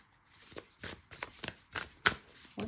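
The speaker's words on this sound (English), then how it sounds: "let's shuffle them properly" A deck of tarot cards is shuffled by hand, a string of short papery riffles and slaps in uneven rhythm, close and fairly soft with no talk.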